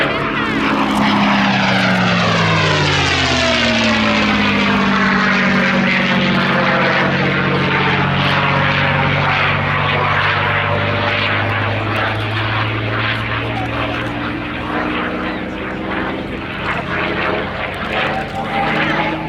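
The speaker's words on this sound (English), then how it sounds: "P-51D Mustang." A P-51D Mustang propeller fighter flies past at an airshow, its loud, continuous engine roar sweeping steadily with a falling, shifting pitch as the aircraft passes near and then moves off.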